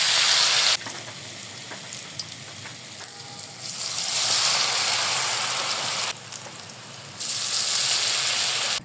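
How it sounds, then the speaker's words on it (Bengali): Batter-dipped jute leaf fritters frying in hot oil, a loud close sizzling hiss that swells sharply as more pieces are dropped in and dips briefly between additions. "এইভাবে সবগুলো ভেজে নিবো ব্যাটারে ডুবিয়ে তারপর তেলের মধ্যে দিয়ে দিতে হবে"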